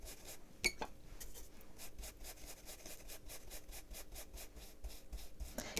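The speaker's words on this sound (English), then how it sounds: "That is my ink pad squeaking." An ink pad dabs red ink along the edge of a fine crisscross stencil, making a quiet, rapid rhythmic rubbing and squeaking close by, with a sharper squeak near the start.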